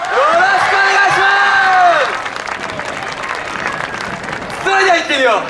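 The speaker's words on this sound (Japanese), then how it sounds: "声援拍手よろしくお願いします" Audience at a Japanese student dance festival's grand stage, Saitama's Saikasai, fills the air with applause and cheering, with shouted voices and whoops riding over steady clapping, dipping midway and swelling again at the end.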